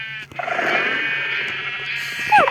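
A Minecraft sheep bleats in a long, wavering call, loud and close, with a short synthetic-sounding bleat at the end over a low steady hum.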